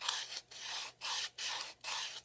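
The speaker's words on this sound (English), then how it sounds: "just sanding along the edge" Repeated strokes of sandpaper rubbing along a paper edge of a Christmas ornament, four or five bursts of gritty scraping with short pauses between, close and steady.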